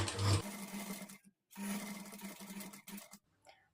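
Sewing machine stitching thread piping onto a curved fabric piece with a normal presser foot, close and quiet, whirring in two short steady runs separated by brief pauses.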